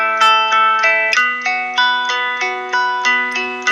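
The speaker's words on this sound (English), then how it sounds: "I load up the guitar preset Tequila Bar and sounds like this." A warm, laid-back guitar from the Studio One Sunburst preset Tequila Bar plays alone: clean plucked chords struck every third of a second or so, each ringing and decaying before the next, with the harmony shifting partway through.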